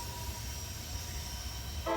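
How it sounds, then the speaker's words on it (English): A heavy freight train climbs the Horseshoe Curve grade with helper engines pushing, heard as a steady low rumble throughout, with a brief horn-like tone entering right at the end. "Heavy trains working the grade, helpers pushing."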